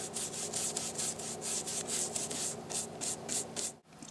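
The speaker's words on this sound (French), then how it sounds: "très léger coup de ponçage sur le dessus" Light hand sanding across the top of a wooden gramophone case, a close, soft rhythmic scratching of about a dozen even back-and-forth strokes, heard alone before stopping.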